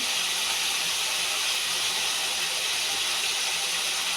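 Broad beans (shim) frying in hot oil give a steady, dense sizzling hiss that stays even and close throughout, with no voices.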